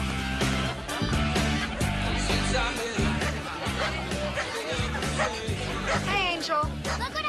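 Dogs bark repeatedly at a lively outdoor party, sharp yips breaking through loud, steady dance music and chatter.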